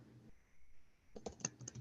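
Typing on a computer keyboard, a quick burst of faint, close clicking keystrokes after a brief quiet pause.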